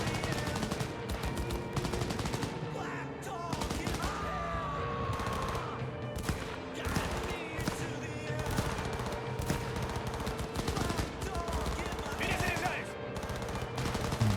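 Continuous video game gunfire from a cop in Cyberpunk 2077: Phantom Liberty, rapid bursts of shots crackling throughout over steady background game sound, moderately loud and without talk.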